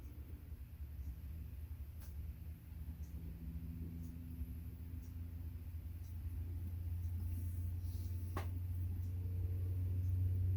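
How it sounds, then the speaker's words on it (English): Low, steady truck rumble passing outside, heard indoors as a broad low-frequency drone that swells louder toward the end, with a few faint clicks over it. "Can you hear that truck going by?"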